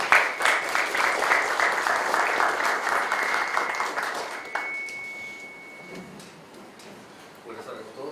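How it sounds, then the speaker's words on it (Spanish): Conference audience applauding a speaker's welcome, a dense burst of many hands clapping at moderate distance that gradually thins and fades out, followed by scattered room noise. "Fuertes aplausos para él, por favor."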